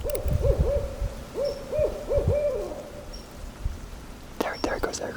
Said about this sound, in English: So we have an owl